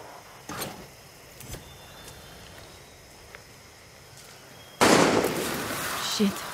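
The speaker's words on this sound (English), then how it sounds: "Shit, who's shooting?" Gunfire in the shooter game Far Cry 6, with a couple of sharp distant cracks early on, then a loud burst of shots close by near the end, while someone speaks.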